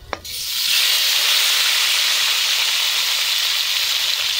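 Chopped tomatoes drop into spices frying in a pan, making a sharp initial splash followed by a loud, steady sizzle and hiss that continues without a break and with no talking.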